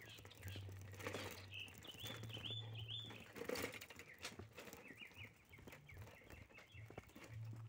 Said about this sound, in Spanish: Oye, los pájaros.